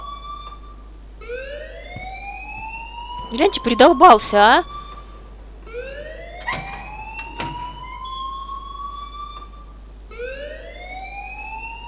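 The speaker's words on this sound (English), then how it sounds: "please turn off that alarm since that's your job." A wailing electronic alarm in the video game Life Is Strange rises and repeats in long sweeping tones, broken by a short burst of harsher noise, while someone talks over it.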